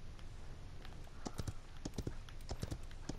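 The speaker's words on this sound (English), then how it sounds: "I am riding a horse." A horse's hoofbeats in the hero shooter game Paladins while the character rides, a quick clip-clop rhythm of sharp taps that grows busier after the first second, heard clearly over a steady background hum.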